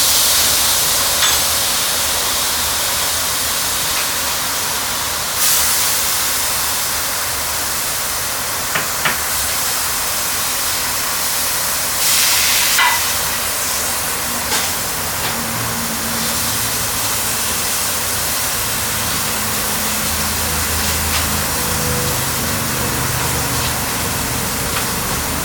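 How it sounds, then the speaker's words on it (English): Steak searing in a hot pan with butter, a loud, steady, broadband sizzle that hisses continuously for the whole stretch with occasional brief surges. "Now we're going to flip that steak over. It got a real pretty sear to it."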